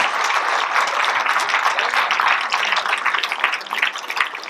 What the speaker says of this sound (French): Donc moi j'ai envie de vous applaudir vraiment tous très fort aussi